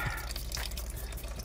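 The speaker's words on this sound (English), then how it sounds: "I'm draining the coolant, and I have the one over there catching the one leaking for the water pump" Coolant drains and drips from a 2005 Honda Accord 3.0 V6 raised on jack stands, leaking from the water pump area in a garage. Soft, quick, irregular drips patter into a catch container, faint and close, with no talking.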